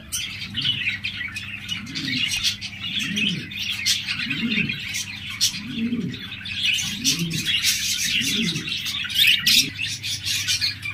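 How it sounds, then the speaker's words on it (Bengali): A pair of lutino red-eye budgerigars in a cage chirps and chatters steadily at close range. A low, rhythmic cooing repeats about six times underneath the chirping. "এখানে দেখতে পাচ্ছেন একজোড়া বাজরিগার পাখি রয়েছে, লুটিনো রেড আই, চমৎকার পেয়ার"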